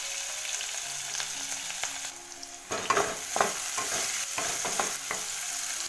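Onion frying in oil with green chili and curry leaves, a steady close sizzle with bursts of crackle and stirring scrapes partway through.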